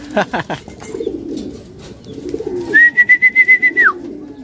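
Soft racing pigeon cooing mixed with bird calls nearby, followed by a series of rapid, evenly spaced high chirping beeps.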